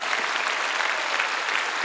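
A large crowd claps steadily at the 2016 peace-reunification prayer rally on the open plaza of the War Memorial in Seoul. The applause is a dense, even wash with no single claps standing out and no voices.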